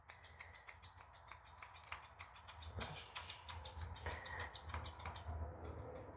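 Scissors snip repeatedly and quickly through matted, knotted fur around the face of a nervous Coton de Tulear dog during grooming, a close, crisp run of cuts with no talking.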